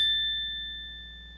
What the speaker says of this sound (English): Don't forget to ring the bell buttons for the next notification